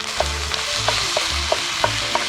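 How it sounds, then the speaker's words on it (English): Minced meat sizzles steadily in a hot camp oven while a spoon scrapes and stirs it in repeated strokes, close and fairly loud with no talking. "Oh, listen to that sizzle."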